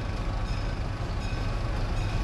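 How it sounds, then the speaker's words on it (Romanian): A PeruRail train approaching near Machu Picchu fills the scene with a steady, loud, close rumble of wheels and engine that holds without a break and has no voices over it. "Vine trenul!"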